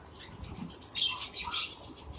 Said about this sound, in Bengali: লাভবার্ড রানিং এক পেয়ার আছে